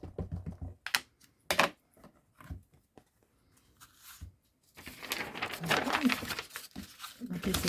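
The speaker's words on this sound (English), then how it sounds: "I'm going to stamp the other side of the tree" Several sharp rubber-stamp thumps on paper in short separate bursts, close and fairly loud, followed by a denser stretch of rustling and pressing of the paper sheet, while a voice speaks at points.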